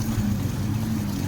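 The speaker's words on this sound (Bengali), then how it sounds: "এগুলো স্পিড বোট বলে জাহাজ এখানে আসছে" Speed boat passing on the sea off Jeddah, a steady low engine drone with water rush, continuous and fairly even for the whole moment.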